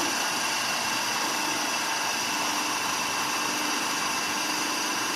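An asynchronous induction motor running at no load on a lab test bench at a 380-volt supply gives off a steady, even electrical whine and hum, constant and fairly loud, with no talking.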